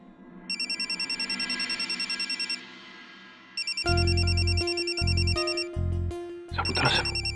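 A telephone rings in repeated electronic trills, pausing once, then continuing as a low droning tone and some clatter come in beneath it.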